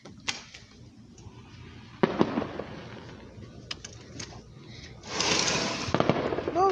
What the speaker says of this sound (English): Fireworks are this way.